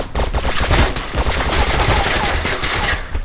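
Rapid automatic gunfire from a shotgun-style weapon in a first-person shooter video game. The shots come in a dense, continuous burst of loud cracks with heavy low-end thump, close and dominant throughout.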